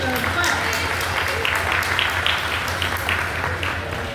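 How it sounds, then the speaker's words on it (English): Banquet audience at a Chamber of Commerce dinner claps in a steady, dense wash for several seconds, with a low hum and some voices mixed in. "let's give Sebastian a clap"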